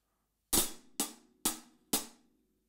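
Inverted flam paradiddle strokes on a closed hi-hat: four crisp, close hits at an even pace, each ringing briefly before fading, with no talking.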